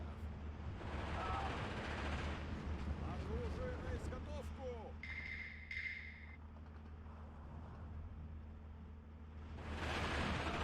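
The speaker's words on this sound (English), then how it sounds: "Oh, that's just artillery coming straight in on these guys, that's why." Artillery fire in the World War II strategy game Steel Division 2 during a Soviet campaign battle near Iasi, with rumbling booms and crackling gunfire under steady noise while someone talks over it.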